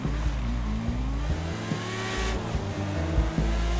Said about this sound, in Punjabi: ਦੇਖਦੇ ਹਾਂ ਕਿੰਨਾ ਭੱਜਦਾ ਮੋਟਰਸਾਈਕਲ